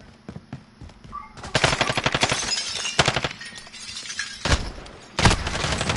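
Bursts of automatic gunfire in a video game, fired at an enemy carrying a riot shield: a few scattered shots, then long loud rapid-fire volleys with a brief pause between them.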